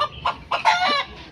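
Native chickens cluck in a short series of close, loud squawking calls on a small egg-producing farm, several quick bursts in about a second.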